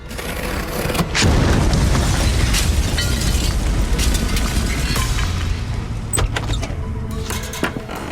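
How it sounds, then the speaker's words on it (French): A parcel bomb disguised as a gift explodes in an apartment: a loud boom bursts out about a second in, followed by a rumbling roar and scattered sharp cracks and clatters as debris settles. "un colis piégé camouflé en cadeau explose"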